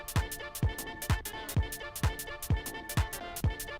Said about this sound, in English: this hi-hat might sound really annoying right now